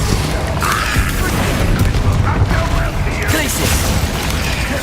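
Bombarda explosion spell cast in the Hogwarts Legacy video game, heard as a dense, booming blast over a loud, continuous battle din with shouted voices throughout.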